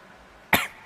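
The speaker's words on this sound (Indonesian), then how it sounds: "Batuk." A single sharp cough bursts out close and loud after a stretch of quiet room tone, then fades quickly.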